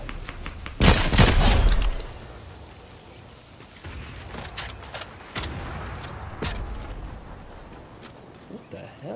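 Gunfire in Fortnite Chapter 4: a dense burst of rapid shots early on, then scattered, fainter single shots over steady game ambience, with voices faintly present.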